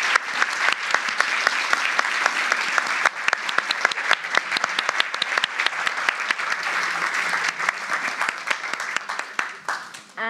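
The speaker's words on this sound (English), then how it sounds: "Please do a round of applause." Sustained audience applause at a festival launch event in London, dense and steady clapping filling the room for about ten seconds before thinning slightly at the end, with some voices mixed in.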